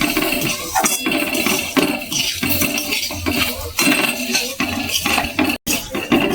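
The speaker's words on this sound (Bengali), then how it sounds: "নেড়ে চেড়ে আস্তে আস্তে চিনিটাকে গলিয়ে নেব।" Semolina and sugar are stirred in a pan over low heat for a mango semolina halwa, producing loud, repeated metal spoon scrapes and clinks against the pan in an uneven rhythm, with one brief pause near the end.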